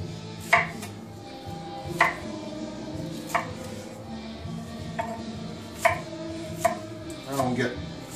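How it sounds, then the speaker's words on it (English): A knife chops vegetables on a board in a home kitchen during chili prep, with sharp, evenly spaced close cuts about once a second and a quick cluster of chops at the end over faint background noise. "Chop this guy up."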